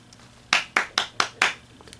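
Five sharp hand claps in a quick, even rhythm, close and fairly loud, alone against a quiet background.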